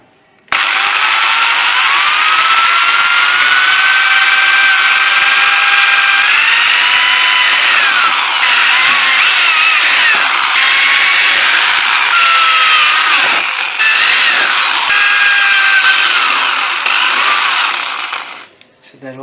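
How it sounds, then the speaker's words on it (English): A power drill whines steadily and loudly, its pitch shifting as it bites through the plastic of a switchboard, then winds down and stops near the end. "while drilling through the plastic."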